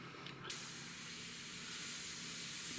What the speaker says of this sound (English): that's what you get when you spray too close